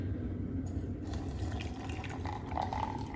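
Hot water at about 95 °C poured from a kettle over genmaicha tea leaves, a steady close trickle and splash of liquid filling a vessel for about three seconds with no talking.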